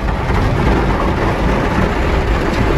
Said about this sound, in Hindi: कितनी तेज बारिश आ गई है,